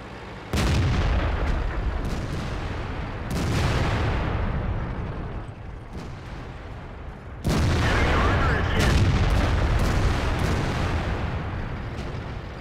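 World of Tanks battle with an IS-7 heavy tank under artillery fire. Deep, heavy booms hit three times, near and loud, each followed by a low rumbling roar that lingers until the next blast.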